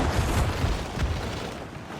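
Heavy naval cannon fire from a sailing warship in Assassin's Creed IV Black Flag, a run of deep booming blasts with a loud thump near the middle, rumbling continuously and close without clear talk.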